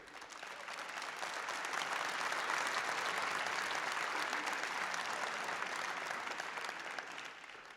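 Sustained audience applause for congressional debate candidates in the 12th District, a dense even wash of many hands that swells in and fades slightly at the end, moderately distant.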